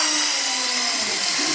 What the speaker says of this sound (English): That's a real saber saw.